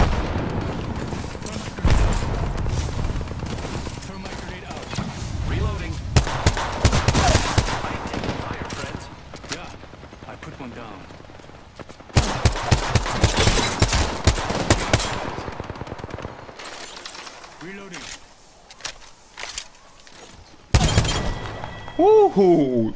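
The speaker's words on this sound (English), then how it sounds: "Grenade out. Throwing grenade. Taking fire." Gunfire and a grenade in an Apex Legends match: clattering machine-gun bursts and sharp shots with booming, shattering impacts, arriving in intense clusters separated by quieter gaps, loud and close, with a voice speaking at times.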